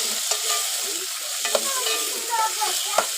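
Onions frying loudly in hot oil, a dense steady sizzle with scattered crackles and pops, and a few sharper clinks of stirring, close up and with no voice.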